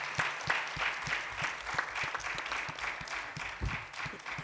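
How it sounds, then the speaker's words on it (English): A panel audience applauds the speakers at the close of a public discussion on data centers and public resources: steady, dense clapping with sharp individual claps standing out, sustained evenly for several seconds with no voices. "let's give our fantastic panelists a round of applause."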